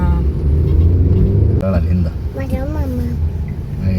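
A vehicle arriving with a steady low engine rumble throughout, loud and close, while people talk over it.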